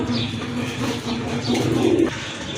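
A pair of red indigo Rajgolla pigeons coo low and steadily in a loft, the murmuring calls continuous through the short stretch, with faint chirps of other birds behind.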